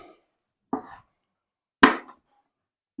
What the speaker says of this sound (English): I'm going to go ahead and chop my sausage